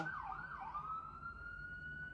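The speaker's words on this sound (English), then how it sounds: "wow, sirens, guys." Wailing emergency siren outdoors, a clear sweeping tone that rises and falls twice before settling into a steady high wail, heard alone at moderate distance.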